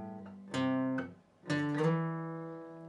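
Slow electric guitar solo phrase: two separately picked sustained notes, the second sliding up and ringing out, played alone and clearly up close.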